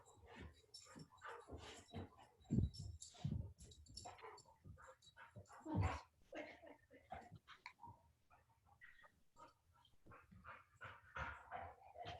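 A dog gives a few sharp barks and soft whimpers close by, mixed in with people talking to it in a home setting during an online yoga session.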